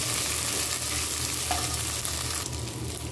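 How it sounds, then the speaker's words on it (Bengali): Minced beef sizzles in a pan with fried garlic, a continuous close crackle and hiss with light stirring and no voices. "আমি এখন সেই কিমা করা মাংসগুলো দিয়ে দিলাম।"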